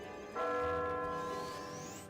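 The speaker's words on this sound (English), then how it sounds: "now the sound of the bell is nearer by. We can see the bell tolls." A single church-style bell tolls loudly in an online multiplayer battle game, striking once and ringing out with a long, sustained, slowly fading resonance over a low background rumble.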